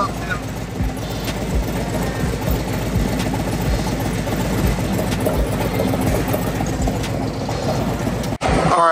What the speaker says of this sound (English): So what I'm doing, I'm just letting it idle, get up to a temperature that's more familiar.